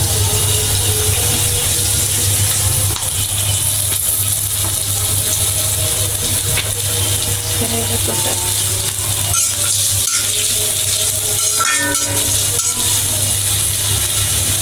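Onions frying in soybean oil in a pan for a sweet pumpkin dish, a loud continuous sizzle up close, broken by scraping and clattering stirring noises toward the end, with no voices.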